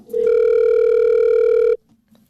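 A loud, steady electronic telephone tone holds for about a second and a half, then cuts off abruptly, leaving near silence.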